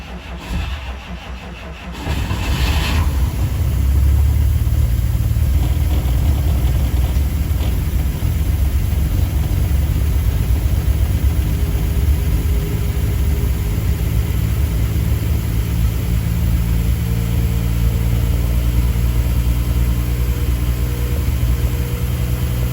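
A 1954 Kaiser Darrin engine starts and then runs steadily on a test run, a loud, continuous mid-pitched drone that holds for about twenty seconds after a brief starting burst.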